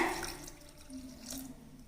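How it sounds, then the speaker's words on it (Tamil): Water is poured from a cup into a bowl of sugar and gram flour mixture for Mysore pak, a soft, steady trickling and splashing close by with no voices over it. "இப்போ இந்த தண்ணியை இதில் ஊற்றிடலாங்க"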